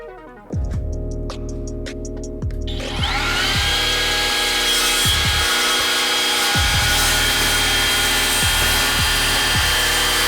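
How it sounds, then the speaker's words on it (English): Power saw cutting through a 2x8 wooden board for board and batten siding beside stairs, a loud sustained whine with a grinding, rhythmic pulse as the blade bites into the wood, close up and continuous. "I'm gonna cut this out of 2x8 to where it matches the handrail."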